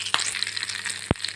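Tempering of red chillies, cumin, mustard seeds and curry leaves in hot oil, a brief crackling sizzle with a couple of sharp pops, close and without talk.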